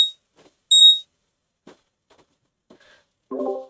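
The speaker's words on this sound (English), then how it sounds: "Oh, it's my trading view alarm." A TradingView price alert alarm sounds from a computer during an online call: a couple of short, high electronic tones separated by quiet, then a brief fuller chime near the end.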